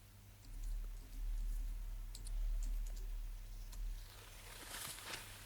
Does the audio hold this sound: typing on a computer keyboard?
yes